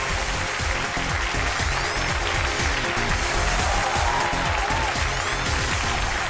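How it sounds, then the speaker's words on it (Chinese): Studio audience applause welcoming a couple onto the stage of a Chinese TV relationship-mediation show, a dense, steady clapping wash lasting the whole stretch with music faintly underneath. "让我们用掌声请出这对夫妻，掌声有请"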